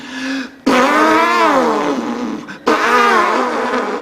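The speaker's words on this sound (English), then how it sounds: "in the zoo, he could hear an elephant trumpeting" A big animal roar standing in for an elephant trumpeting, two long, loud, brassy blasts with a short pause between, close and alone.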